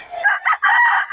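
A rooster crows loudly and close at a Bocaue market, one full crow with its broken rising and falling phrases and no talk over it.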